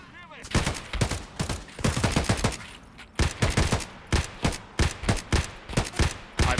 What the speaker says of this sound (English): I'm shooting you in the head, please.